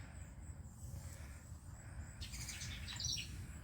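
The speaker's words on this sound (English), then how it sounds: "Can you hear the birds?" Faint chirps and tweets of birds singing outdoors over a low background hum, a few scattered calls growing busier toward the end.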